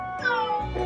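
A cat meows on a balcony, a single drawn-out, close and fairly loud call lasting under a second, with no other sounds.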